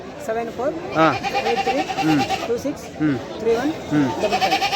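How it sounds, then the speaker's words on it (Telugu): Several male goats bleat repeatedly in wavering, nasal cries, close and loud, amid the bustle of a crowded weekly sheep and goat market in Kadiri, India, with people talking in the background. "మేకపోతలు అయితే భారీగా వచ్చినాయి ఈ వారము"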